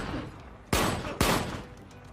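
Two sharp gunshots ring out in an action film scene, loud and close, about half a second apart, each followed by a short echoing tail over a low rumbling background.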